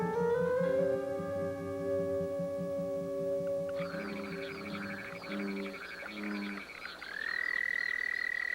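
A chorus of frogs calls continuously, with sustained, overlapping tonal croaks and a pulsing low rhythm, shifting to higher, brighter trills partway through and holding steady at close range.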